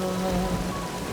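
Heavy rain pours hard and steady on a surface, a dense close patter filling the short stretch with no voices.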